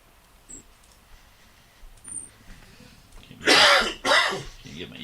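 A few rough coughs with throat clearing from a single nearby person indoors, two loud bursts close together near the end after quieter sniffly sounds.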